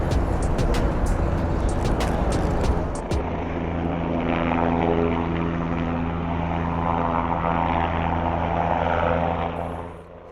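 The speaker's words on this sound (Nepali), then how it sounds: "यो तपाईँहरूले देखिरहेको हेलिकप्टर चाहिँ तपाईँहरू चढ्नु पनि सक्नुहुन्छ" A sightseeing helicopter over Manhattan flies nearby, a loud steady rotor and engine drone with strong low tonal hum holding throughout, briefly sharper and choppier at the start before settling into a continuous roar.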